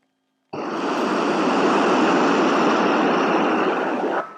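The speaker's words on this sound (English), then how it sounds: "Draken 1-3 is coming into land." A Saab Draken all-weather fighter jet coming in to land, its gear down, makes a loud, steady jet roar. The roar starts abruptly and holds close and constant for about four seconds before cutting off.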